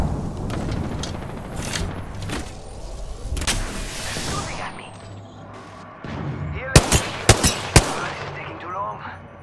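Gunfire in the video game Apex Legends, with rapid bursts of automatic weapon fire and sharp single shots over a busy game soundscape, ending with a cluster of loud nearby shots.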